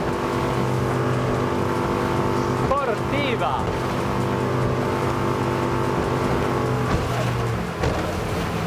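A 350-horsepower engine on an NX 290 Grand Style motorboat drones steadily and loudly throughout, a constant hum of motor and water noise with someone talking over it.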